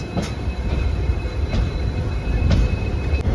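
Steady rumble of a moving train with rattling carriages and periodic clicks of wheels over rail joints, continuous and close.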